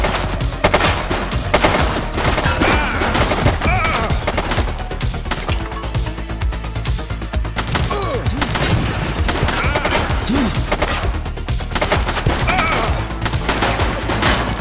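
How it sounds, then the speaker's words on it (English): Gunfire in the police video game The Precinct comes as rapid, overlapping volleys and bursts of shots, loud and nearly unbroken through the whole stretch. "He's shooting!"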